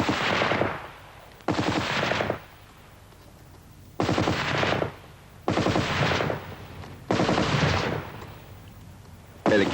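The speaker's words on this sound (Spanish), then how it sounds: "La Vickers, una ametralladora medium, sólidamente montada en un trípode y alimentada por una cinta de munición" Bursts of fire from a Vickers medium machine gun, belt-fed and mounted on a tripod, come in five or six separate loud volleys of a few seconds each, with short quiet gaps between them.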